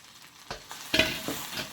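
Dried red chillies and fennel seeds dry-roast in a pan for Jaffna-style sambal powder, stirred with a few dry rattling scrapes over a steady crackling sizzle, close and moderately loud.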